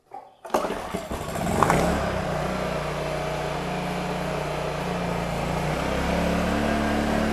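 A Scheppach mini home-type generator, pull-start, is started: a sharp rattle as the rope is pulled, then the small engine catches and settles into a steady close buzzing drone with a low hum throughout.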